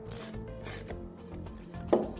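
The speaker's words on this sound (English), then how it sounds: "we'll go ahead and put some nuts on to hold it in place" Metal nuts being threaded and run down onto studs on the fluid cover of a Graco Husky 515 diaphragm pump, giving close, irregular ratcheting clicks and scraping metal contacts with a sharper clank near the end.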